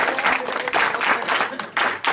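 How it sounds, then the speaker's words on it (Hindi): At the closing ceremony of a seven-day NSS camp in Nayan village, the gathering claps for the team in a lively, uneven burst, with the clapping surging and dipping in short waves and brief near-gaps. "मैं पूरा टीम को एक बार तालियों से,"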